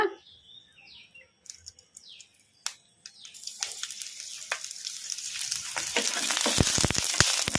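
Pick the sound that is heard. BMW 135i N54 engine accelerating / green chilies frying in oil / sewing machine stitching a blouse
green chilies frying in oil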